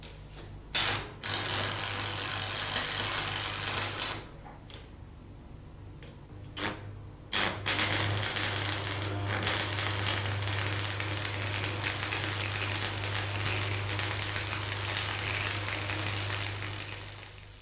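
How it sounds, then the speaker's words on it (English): Arc welding a joint between two steel plates produces a continuous buzzing, crackling hum with a steady low drone, broken by a few short stops and restarts, close up and fairly loud. "weld it just like the bead on plate you started with"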